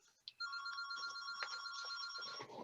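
A telephone rings with a repeated electronic trill, a steady warbling tone lasting a couple of seconds, moderately loud in a quiet room.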